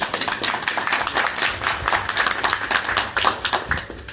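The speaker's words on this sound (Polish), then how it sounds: "Ja myślę, że Dawidowi też się brawa należą." Applause at a ski jumping press conference, a loud, dense burst of hand clapping from a nearby room of people, continuous and uneven throughout.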